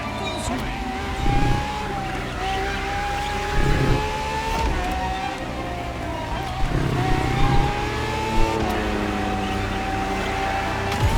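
A Ferrari FXX K in The Crew Motorfest holds a sustained engine whine that climbs and settles through shifts, with a voice narrating over the steady drone.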